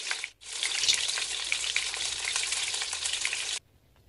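Snacks fry in a mix of oil and ghee with a loud, continuous crackling sizzle that stops abruptly after about three seconds, following a brief dip near the start.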